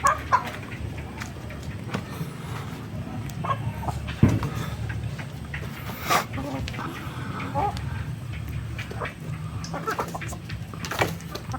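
Backyard chickens clucking and calling in scattered bursts, some near and some farther off, over a low background murmur with a few sharp knocks.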